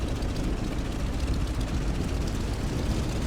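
A Corsair warplane taxiing in Microsoft Flight Simulator gives a close, steady low engine drone that rumbles on evenly for the whole short stretch.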